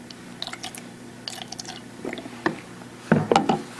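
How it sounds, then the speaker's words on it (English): Deionized water is squirted over pH probes during calibration of a Hanna HI2210-02 benchtop meter, giving short irregular splashes and drips alongside light clicks and clatter, close up and moderately loud. "We rinse them off with deionized water"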